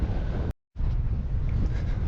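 Strong wind blowing across open fields at Shanno Castle in Scotland, a loud, continuous roaring rush buffeting the microphone, broken by a brief dropout of silence before resuming, with no talk.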